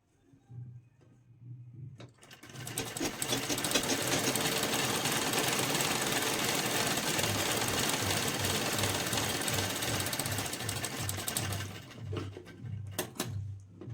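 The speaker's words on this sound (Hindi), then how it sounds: "दोनों पट्टी को हमें सेम स्टिच कर लेना है।" A sewing machine stitches fabric strips in one long continuous run, a fast loud mechanical whir after a short start, slowing and stopping near the end with a few clicks.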